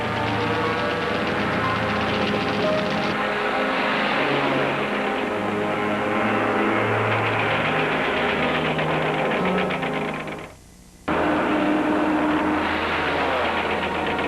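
Aircraft engines roar through a World War II air battle over Pearl Harbor as American fighters engage Japanese planes, a loud, continuous droning with shifting pitch that cuts out briefly near the end before resuming.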